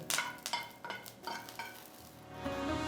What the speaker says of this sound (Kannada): ಕರಿಬೇವು ಮತ್ತು ಇದು ಹಸಿಮೆಣಸಿನ್ಕಾಯಿ ಎರಡನ್ನ ನಾವು ಫ್ರೈ ಮಾಡ್ಕೋಬೇಕು